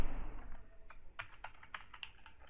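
Quick keystrokes on a computer keyboard while typing into a Microsoft Excel spreadsheet, a close, crisp run of clicks over a quiet room background.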